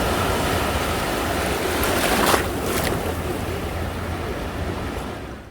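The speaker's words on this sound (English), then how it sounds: "the sea in this area has phases with waves and without much waves" Steady ocean surf at Cancun washes in broad, continuous noise, with a slightly louder wave breaking midway; no voices.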